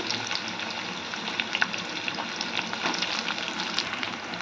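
Medium onions sliced lengthwise hit hot oil for a chickpea-flour palya, filling the moment with a dense, continuous close-up sizzle and bubbling, loud and unbroken, with scattered pops.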